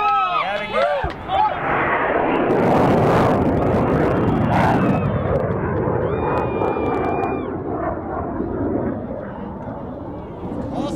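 A rocket launch carrying PhoneSat: a loud, sustained broadband roar builds right after ignition and holds steady throughout, with people cheering and talking beneath it.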